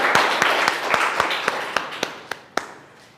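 An audience at a school result celebration claps in loud, evenly spaced, rhythmic beats, each sharp clap ringing out over a reverberant room.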